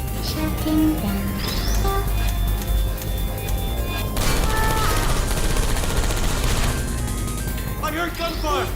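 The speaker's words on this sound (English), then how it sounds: "I heard gunfire." Video game gunfire crackles in scattered bursts and rattling volleys, mixed with other busy in-game sounds and effects at a consistently loud level.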